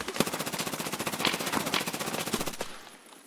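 A rapid burst of automatic gunfire in Escape from Tarkov, a steady stream of evenly spaced shots lasting about three seconds before cutting off, moderately close and loud with no talking.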